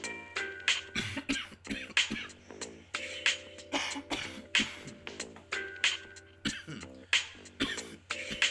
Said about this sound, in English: The vape cough always just hits you so much differently.